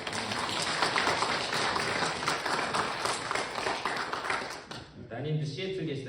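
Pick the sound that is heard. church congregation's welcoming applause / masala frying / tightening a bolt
church congregation's welcoming applause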